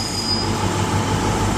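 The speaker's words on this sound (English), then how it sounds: "Cross country train now leaving" A CrossCountry passenger train pulling out of Exeter St David's station, a continuous close rumble and wheel squeal with a faint high whine, no voices.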